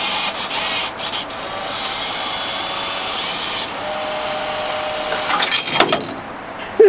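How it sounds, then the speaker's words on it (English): A coin-operated vending machine in the Austrian Alps runs with a steady mechanical motor whir, then ends in a few clunks and rattles as a cheese item is dispensed. "I don't think I've ever had a vending machine take 20s."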